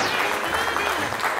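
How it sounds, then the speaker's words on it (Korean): Audience applause at a district office anniversary game event, a steady wash of clapping that fills the short moment at moderate loudness. "박수 한번 주세요."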